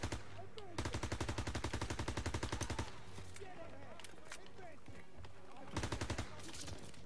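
Bursts of rapid automatic fire from an MP40 submachine gun in a World War II shooter game, two long loud strings of shots with a busy battlefield ambience between them.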